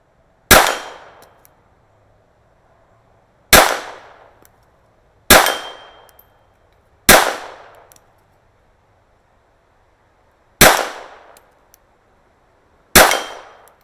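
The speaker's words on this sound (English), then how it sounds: "Let's try a few shots at that steel gong." A World War One French contract Ruby pistol fires at a steel gong: six loud separate shots, each ringing with a bright metallic clang that fades out, spaced irregularly over several seconds.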